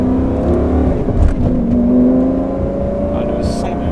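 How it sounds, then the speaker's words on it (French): Lamborghini Gallardo Superleggera V10 engine revving from inside the car, a loud rising mechanical drone with a climbing pitch and brief surges, with some indistinct voice mixed underneath. "Ah, le son du V10."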